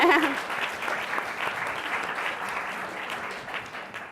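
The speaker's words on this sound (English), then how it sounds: "Hey, everybody. Clap for him." An audience at a conference on racial and economic justice applauds, dense sustained clapping that fills the room and slowly tapers, with no speech over it.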